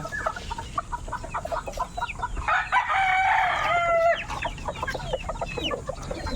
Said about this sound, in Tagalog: Bugo chicken pinapakain talaga na pa.